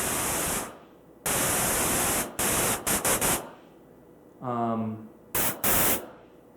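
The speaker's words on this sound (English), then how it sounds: "this is just what white noise looks like. Basically, it's a distribution that covers every frequency." Synthesized white noise spread evenly across every frequency plays in loud, abrupt bursts that switch on and off, with short gaps of near-silence between them and a brief spoken word in the middle.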